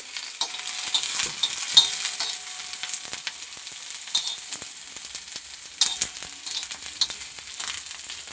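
Onions frying in oil on a tawa while being stirred, a steady close sizzle with scraping and clinking of a spatula throughout, and no talking.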